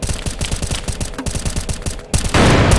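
Rapid gunfire in a combat video game, a loud, close, rhythmic burst of repeated shots followed by a heavier rumbling blast as the clip ends.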